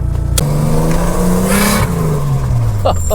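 2JZ-swapped Mercedes W124 pulling hard under boost from inside the cabin, one long rising engine note climbing through the revs with a brief gear change, loud and close.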